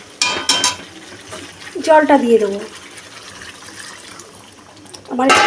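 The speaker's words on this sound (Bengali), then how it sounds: "এখন আমি জলটা দিয়ে দেবো।" Water is poured into a pan of bata fish and potato curry in a short splashing rush with a rising tone, with kitchen clatter around it and a voice talking near the end.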